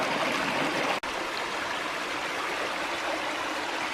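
A water cascade in a forest stream in Bankhead National Forest, Alabama, rushes in a close, steady, full roar without pause.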